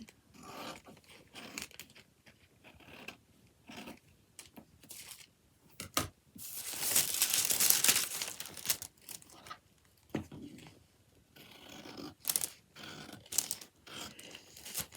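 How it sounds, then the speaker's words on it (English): Quiet tabletop handling of a paper sewing pattern piece: soft crinkles, taps and tape sounds, then a louder burst of tape being pulled and torn, followed by scattered snips and rustles as the piece is cut out. "tape this in place and cut out my new pattern piece."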